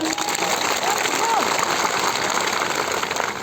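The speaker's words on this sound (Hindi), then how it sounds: "सभी पदाधिकारियों के नाम पर जोरदार ताली बजाइए।" An audience at a political rally claps steadily in a dense, even wash of applause that holds at moderate loudness throughout, with no pause or build.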